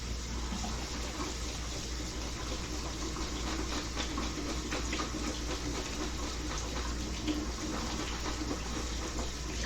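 Tap water runs steadily while potatoes are rinsed for poutine, a soft continuous splashing stream heard close up and alone, without talk.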